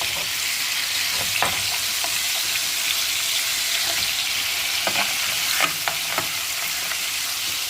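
Fish pieces fry in hot oil in a pan, a steady sizzle with a few sharp spits and clinks as the pieces go in one by one.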